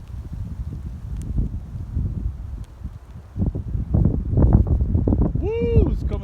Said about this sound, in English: It's getting very windy, so let's go back to my stash.